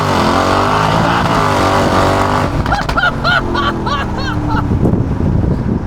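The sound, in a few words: Mercedes G-Class with 1063 hp revving and accelerating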